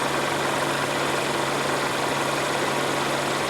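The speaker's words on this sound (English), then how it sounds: "we had the vehicle running for a good little while" A 2017 Infiniti QX30 engine idles with a steady, even hum and a low constant drone, continuous and unbroken throughout with no talk.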